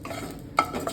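Dry red chillies, coriander seeds and cumin roast in a dry pan for ground spice, heard as a soft rustle and scrape of stirring with a sharper clatter midway, no voices.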